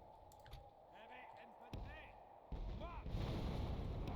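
Cannon fire in the Medieval II strategy game, heard as a few booming blasts and a louder heavy impact midway, with game battle noise continuing underneath.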